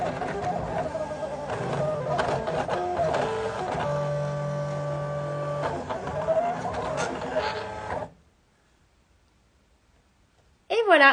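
A Silhouette cutting machine runs through a design with a steady whirring, humming drone and small clicks for about eight seconds, then stops into near silence before a voice begins.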